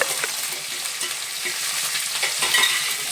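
Frozen peas, carrot and beans are stirred and fried in a pan with a little salt for vegetable upma. A close, continuous sizzle carries steady scraping strokes of the spoon.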